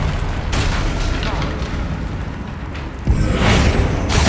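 In Hogwarts Legacy, a Bombarda spell explodes during a troll fight as a loud, deep boom with a rumbling tail, following busy game noise and voices.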